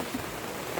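Heavy rain starting to come down, a dense steady roaring wash of drops with no gaps, close and fairly loud for the short moment.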